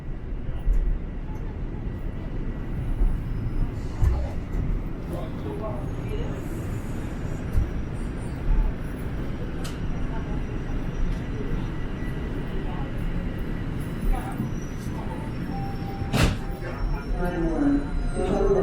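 Toronto subway train pulling into Bloor-Yonge Station, a continuous rumbling roar of wheels and motors with clanks and a brief chime, heard from inside the car as an automated voice announces.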